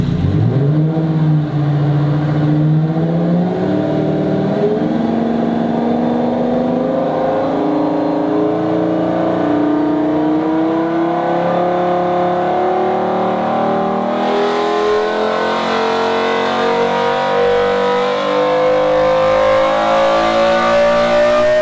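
A Volvo car engine revs steadily upward through a loud, throaty modified exhaust, pitch climbing continuously as it accelerates.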